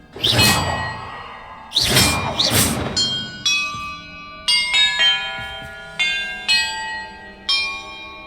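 Bells ring in the video game Hogwarts Legacy: two whooshing strikes open, then a sequence of single clear chiming tones at varied pitches, struck roughly once a second, each ringing out and fading.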